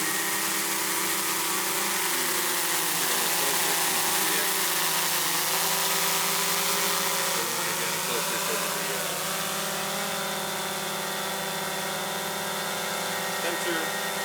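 A DJI Mavic Air 2 drone fitted with Master Airscrew propellers idles close by, giving a loud, steady, unbroken whine and drone with a slight wavering buzz that holds through the whole stretch.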